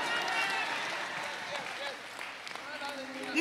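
A church congregation applauds during a sermon, with moderate clapping and murmuring voices mixed through it, tapering toward the end.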